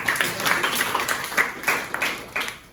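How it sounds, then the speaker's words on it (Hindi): A classroom of students claps together before a brain teaser game, the claps fairly rhythmic and close, rising and falling in short bursts over a few seconds. "तो एक बार ताली बजाते हैं आप।"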